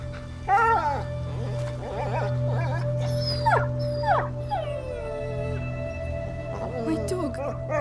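A dog whimpers and yelps in high, rising and falling cries in A Plague Tale: Innocence, several short wavering whines repeated over a steady low game drone, fairly close and clear.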